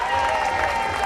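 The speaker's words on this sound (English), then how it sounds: "Give him a big hand clap again." An audience applauds a child performer at a theatre performance by Dehkontee Artists Theatre, producing a steady, dense wash of clapping and crowd noise with a faint tonal hum beneath.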